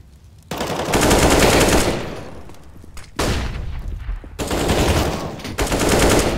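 Sustained bursts of automatic gunfire in a CS:GO match, loud and close, running in long continuous volleys broken by short gaps.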